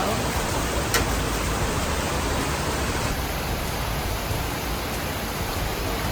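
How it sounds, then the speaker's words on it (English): Summer rain falling in Okinawa, a dense, loud, unbroken hiss of rainfall throughout, with no voices. "Oh my goodness, summer rain."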